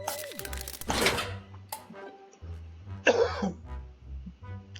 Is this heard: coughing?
yes